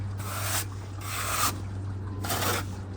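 External render top coat smoothed with a steel trowel or plastic float, heard as three long, close, rasping scrapes across the wall over a steady low hum.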